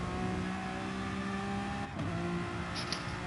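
A race car engine heard from the onboard camera in a racing video game at Maggiore, droning steadily at high revs with a brief drop in pitch as the driver shifts or lifts, then climbing again, close and alone.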